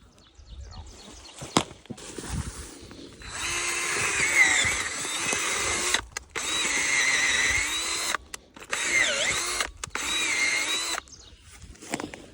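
A cordless drill with an adjustable clutch whines loudly in several sustained bursts of a few seconds each, stopping and restarting between runs, with a few clicks and handling knocks in the gaps; no talking.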